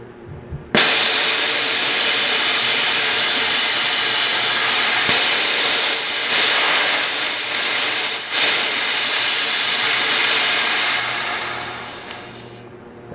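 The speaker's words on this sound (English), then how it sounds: "And then I'm going to bleed the air." An Air Venturi 4500 psi air compressor bleeds off high-pressure air in a loud, steady hiss that bursts on abruptly, holds for about twelve seconds with slight surges, then cuts off.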